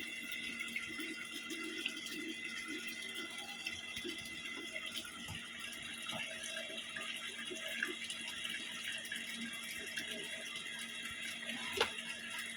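Dishes washed under a running kitchen tap, a steady faint rush of water throughout with a light clink of crockery near the end and no speech.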